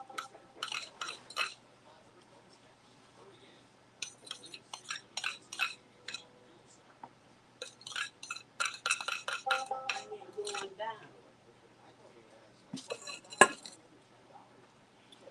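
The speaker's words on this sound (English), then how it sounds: "She's over there stirring it up for me right now." A spoon stirs peach cobbler mixture in a baking dish, giving quiet close clinks and scrapes in short bursts with pauses and one sharper knock near the end.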